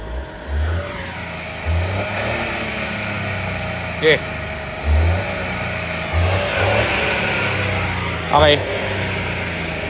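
A Ford Fiesta EcoBoost turbo engine revving in short repeated bursts over a running idle, fairly close, with someone talking over the engine.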